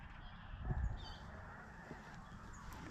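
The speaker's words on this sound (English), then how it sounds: "There's snow geese" Snow geese call in a distant flock during a late-season deer hunt in Maryland, faint scattered honks against a rumbling outdoor background with no talk.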